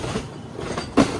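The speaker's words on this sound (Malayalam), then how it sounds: "ട്രെയിൻ ഇപ്പോൾ അടുത്തൊരു സ്റ്റേഷനിലേക്ക് എത്തുകയാണ്" A Malaysian jungle train on the Johor Bahru to Tumpat line rumbles as it nears a station, steady rail noise with a brief louder clank near the end.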